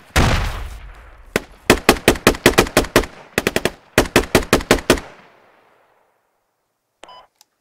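Gunfire in the military shooter game Squad: a loud opening blast, then rapid automatic bursts of sharp, evenly spaced shots close by, ending in a fading echo and a faint beep.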